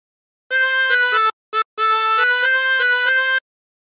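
Chromatic harmonica playing a phrase of the Battle Hymn of the Republic: bright, reedy sustained notes alternating blown and drawn, with a brief gap and a short note before the melody resumes, played solo and close.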